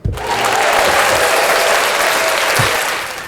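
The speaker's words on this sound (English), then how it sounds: "Just a constant clap." Steady, continuous applause from a small studio audience welcoming a guest onto a podcast, a dense unbroken clapping that holds at an even level for a few seconds before tapering slightly at the end.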